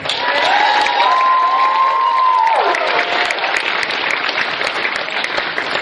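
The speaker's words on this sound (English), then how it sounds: "Let's give applause." Steady, dense applause from a large audience, with a whistle-like cheer rising and falling early on before the clapping carries on evenly.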